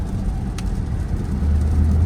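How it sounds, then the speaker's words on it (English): A 2024 Dodge Charger electric car accelerating at highway speed, giving a steady low road and motor rumble that grows slightly louder toward the end, with no engine note. "The entire nose of the car lifts at highway speed when you accelerate."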